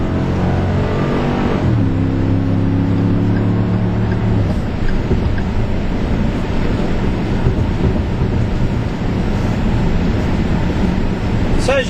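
Throaty exhaust of a 2011 Ford F150 Lariat Limited pickup accelerating on an open freeway through its single rear exhaust port, a loud steady engine roar with rising tones early that settles into continuous road and engine noise.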